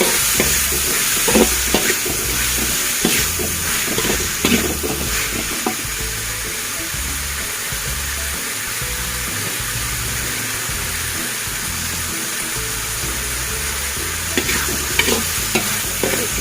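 Potatoes and beef skin stirred and frying together in a pan, a steady loud sizzle under repeated scraping strokes of a utensil, close and continuous without talk.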